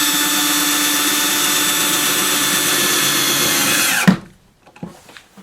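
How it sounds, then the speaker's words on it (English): A power drill drives a self-drilling screw during assembly of a portable solar generator: a loud, steady whine for about four seconds that cuts off abruptly, followed by a few faint clicks and handling sounds. "the screw is a drill bit and a screw all in one"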